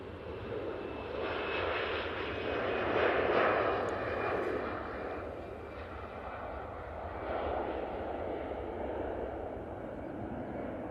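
A Jet2 Airbus A321ceo airliner coming in to land at Manchester Airport, a distant broad engine roar that swells and fades gently over about ten seconds amid outdoor background, fairly faint.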